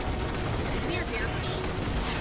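A rocket attack rains down in Starship Troopers: Terran Command, a continuous roar of rapid blasts and gunfire-like bursts with crackling mechanical detail, loud and dense throughout under a voice talking.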